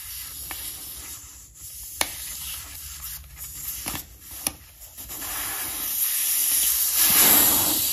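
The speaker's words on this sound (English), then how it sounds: "I will just take the valve out of here so that we can let out some 60-year-old air into the workshop" Air hisses steadily out of an old tyre on a 1960 Bolens Ride-a-matic riding mower once the valve core is pulled in a workshop, a broad rushing hiss that swells louder toward the end, with a few small clicks.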